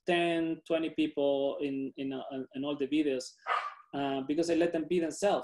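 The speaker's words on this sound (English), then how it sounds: "you can hear my dog barking in the back?" A pet dog barks faintly in the background during an indoor artist talk, the short yaps mostly buried under a person speaking steadily in the foreground.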